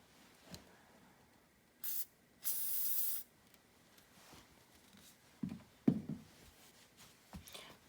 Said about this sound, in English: This, ladies and gentlemen, is a job for Liquid Wrench.